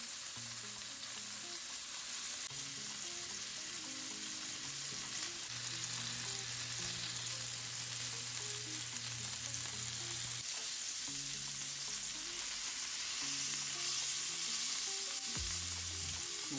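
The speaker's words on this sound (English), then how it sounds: "All you need is a skillet or a hot pan. Sear the burger, leave it alone, let it cook." Burgers searing in a hot skillet give a steady, dense sizzle throughout, close and continuous, with faint low background hum and occasional soft clinks.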